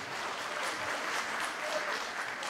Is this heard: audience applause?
yes